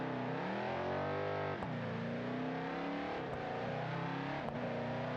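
A Hellephant 426-powered Dodge Charger Daytona in BeamNG Drive holds a loud, sustained engine howl with rich harmonics, the pitch dipping and climbing through gear changes with brief clicks between, running alone without talk.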